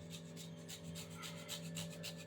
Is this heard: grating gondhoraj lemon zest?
yes